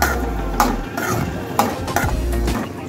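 Onions frying in a pan on a low flame while being stirred with a ladle, with a steady close sizzle broken by several scraping, clinking strokes of the ladle.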